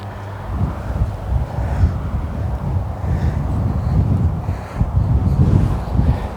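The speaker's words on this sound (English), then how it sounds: "Oh, the wind is so strong." Strong wind gusting across an open golf course, a loud steady roar buffeting the microphone with low rumbling surges and no other sounds.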